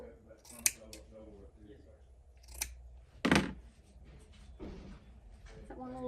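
Scissors snip through burlap ribbon in a few sharp, close crunching cuts, one especially loud, between soft rustling of the ribbon and quiet talking.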